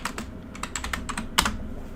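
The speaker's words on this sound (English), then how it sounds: "I'm gonna start typing here." Rapid typing on a computer keyboard, close and fairly quiet, with a quick irregular run of key clicks and one sharper tap near the end.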